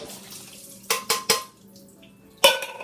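Liquid being strained from a large can of chickpeas in a home kitchen: a few sharp metallic clinks and clatters in quick succession over a low watery trickle, with another clank near the end and no talking.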